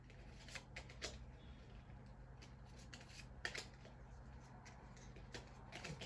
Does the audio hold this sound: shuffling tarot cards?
yes